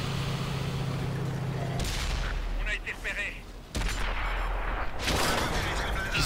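Gunfire in an Xbox One shooter, with dense rumbling bursts of shots and booms running almost continuously, briefly thinning in the middle before resuming loud and close.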